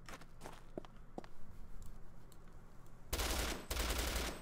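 Video game gun fires in a loud dense automatic burst near the end, after a stretch of quieter game ambience with footstep-like clicks, no talking.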